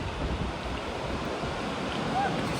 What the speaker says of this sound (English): windy here. It's probably hear the wind.